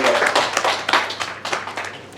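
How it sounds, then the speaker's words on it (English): An audience gives brief applause, a short burst of clapping that thins out after a couple of seconds. "let's give him a round of applause."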